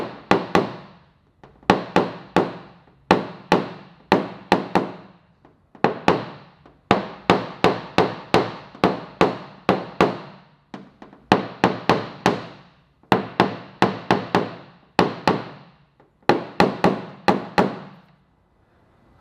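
Sharp, rapid taps of a PDR tool knocking down a stretched dent in tight sheet metal, close and loud, coming in quick bursts of clustered strikes with short pauses between, no talking.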